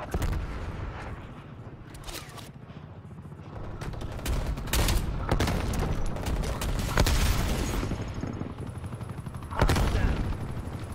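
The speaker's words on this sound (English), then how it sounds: "not tap fire, but rapid fire this gun" Loud in-game gunfire from an M8 rifle in Black Ops Cold War, Team Deathmatch on Nuketown, with irregular bursts of rapid shots and a heavy blast near the end, under light background noise.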